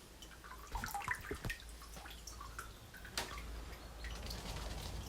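Water drips from freshly dunked bonsai soil, with scattered quiet drops and trickles over a faint background hiss.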